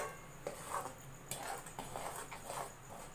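Coconut barfi mixture with food colour is stirred in a pan, giving quiet, irregular scraping and clinking of a spoon against the metal that repeats several times at a low level.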